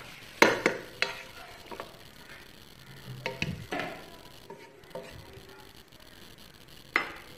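Rice being tipped into a hot frying pan and stirred for homemade fried rice: scattered scraping and clinking of a spoon against the pan over a low sizzle, with a few sharper knocks, no talking.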